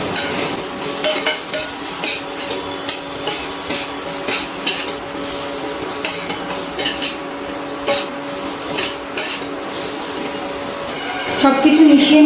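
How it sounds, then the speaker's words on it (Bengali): A spoon scrapes and stirs through potatoes frying with spices and salt in a pan, rhythmic clinks over a steady sizzle, close up, with a voice talking throughout. "এবারে খুব ভালো করে সব কিছু মিশিয়ে নিচ্ছি।"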